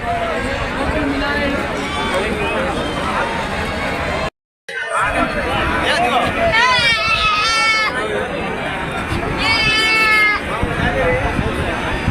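Goats and sheep bleat repeatedly amid a busy outdoor livestock market crowd in Kunta, with people chattering and talking loudly throughout; a brief silent gap interrupts the noise.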